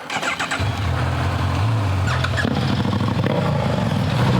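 A loud motorcycle with an aftermarket Austin Racing exhaust revs and pulls away, its raspy exhaust note rising and falling with deep, throaty bursts, no talking.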